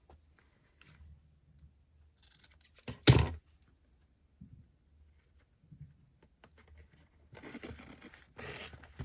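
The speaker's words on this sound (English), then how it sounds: "This needs a little bit of cutting." Scissors cut paper for an envelope pocket, a sharp close snip standing out among quiet handling and rustling, followed by softer paper sounds.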